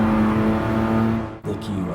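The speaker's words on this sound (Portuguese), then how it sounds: "Agora vamos aqui fazer uma redução para a terceira." A Mazda RX-7 race car in GT Sport braking and downshifting to third gear on a technical section of the Nordschleife: a loud, steady engine drone that cuts out briefly and then rises again, with a voice talking over it.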